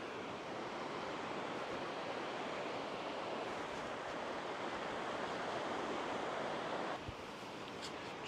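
Steady, continuous roar of surf breaking on a beach where the Daintree rainforest in Australia meets the sea, broad and washing with no voices, easing slightly near the end.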